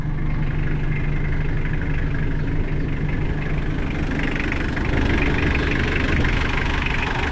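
A used 1995 Mitsubishi Aero Body pickup truck's engine idles close up, a steady, loud, even low rumble with a faint ticking texture that holds unchanged throughout, with no voices.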